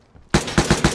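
Three loud gunshots from a survival video game ring out in a steady rhythm, close and punchy, after a brief quiet lead-in.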